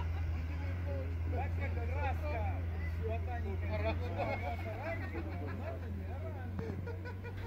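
A UAZ off-roader climbs a hill in rear-wheel drive with its hubs unlocked, a continuous low engine drone running beneath people talking inside the vehicle.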